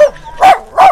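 A dog barks twice in quick succession, loud and close, with a short gap between the two barks.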